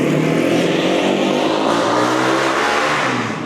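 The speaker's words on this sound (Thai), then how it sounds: "โอ้โหเสียงมอไซค์" A loud motorcycle engine roars continuously up close, holding a high, strained pitch before easing off slightly at the end.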